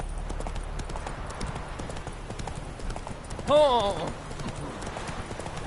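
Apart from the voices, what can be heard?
horse Roach galloping in video game Witcher 3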